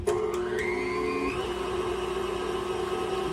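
An electric hand mixer stirring Hershey brownie cake batter, a steady whirring motor hum with a slight pitch shift early on, close and continuous without any talk.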